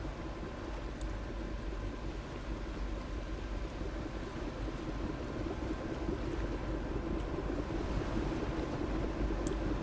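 A small craft's engine in The Last Caretaker pushed to full throttle, a steady droning hum with a low rumble and windy rush that holds evenly and rises slightly in loudness, no voices.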